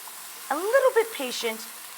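Fresh mushrooms, about a pound, browning in chicken drippings for chicken Marsala give off a soft, steady sizzle, with a voice briefly sounding over it in the middle.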